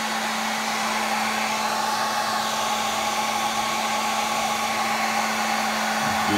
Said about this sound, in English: I believe my wife needs a new hair dryer because it's pretty scuffed up